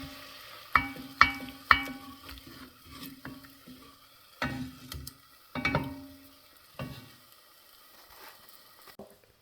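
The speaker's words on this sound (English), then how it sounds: "Got the garlic going in the butter" Garlic sizzles gently in butter in a pan under a series of sharp utensil clinks and scrapes that come in bursts, close up, quiet, with no talk.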